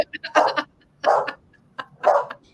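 A dog barks indoors in three loud, close bursts spaced about a second apart, each a quick cluster of yaps, with short quiet gaps between.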